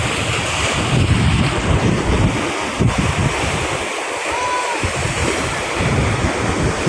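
Sea waves wash against the Manila Bay seawall in a constant roar, mixed with heavy wind buffeting the microphone and a brief dip in the rumble midway. No voices are heard.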